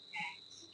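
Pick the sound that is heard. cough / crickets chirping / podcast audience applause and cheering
crickets chirping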